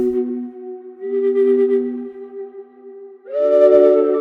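Soft, sustained ethereal synthesizer pad tones for a flute-themed promotional score, layered chords holding steadily, dipping briefly, then swelling brighter and fuller near the end, with no voices.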